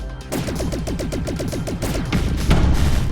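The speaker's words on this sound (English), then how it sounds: "Realistic looking explosions." Explosions in the arcade-style space shooter Asteroids Millennium, a dense, loud barrage of rapid booming blasts layered over a throbbing game soundtrack, with a heavier burst near the end.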